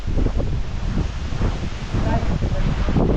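Wind gusts at Holy Cruz Mount buffet the microphone in heavy, uneven low rumbles, loud and close throughout, with a voice faintly present underneath.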